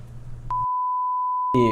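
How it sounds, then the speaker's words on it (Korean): A censor beep: a single steady electronic tone lasting about a second, cutting in over a brief stretch of low talk and ending as another voice begins. "이거 나중에 편집해서 삐소리 처리"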